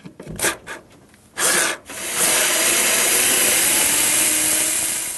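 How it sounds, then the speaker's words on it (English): A hand tool works on bolts holding a washing machine motor, with a few close rubbing, scraping strokes followed by a sustained loud rasping, grinding noise, no talking. "to remove the motor itself, we just got these couple of bolts to undo."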